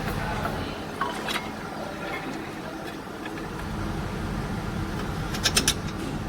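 A brake caliper bracket and its bolts are fitted onto a brake rotor, giving a few faint metallic clicks and light scrapes over a quiet background, with a brief cluster of sharper clinks near the end.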